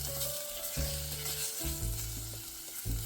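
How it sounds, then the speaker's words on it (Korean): Meat frying in a spoonful of oil in a pot for sundubu stew, a continuous close sizzle broken by several bursts of stirring and scraping, with no voices. "이제 냄비에 기름을 한 스푼 두르고 고기 먼저 볶아줄게요."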